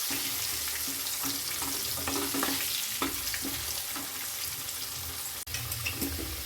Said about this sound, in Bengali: ভালোভাবে ভেজে নেব এই সময় গ্যাসটা একটু কমিয়ে রাখবো যাতে আলুগুলো ভালোভাবে ভাজা যায়